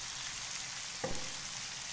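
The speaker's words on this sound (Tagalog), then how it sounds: "Halu-haluin lang po natin ito." Sausage and peppers sizzle steadily in a pan, with a soft scrape of a spoon stirring them about midway through, close and moderately quiet.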